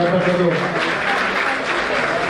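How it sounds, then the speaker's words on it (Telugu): A crowd at an International Women's Day gathering held by an employees' association claps loudly and continuously. An amplified voice talks over the applause throughout. "వారు కూడా ఒకసారి గట్టిగా చప్పట్లు"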